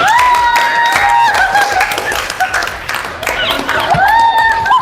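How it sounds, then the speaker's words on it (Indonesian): Classroom of students clapping after a pupil's answer in an Islamic studies lesson, a steady burst of applause under children's chatter and high voices throughout. "kasih aplaus"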